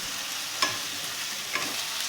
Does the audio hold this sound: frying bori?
yes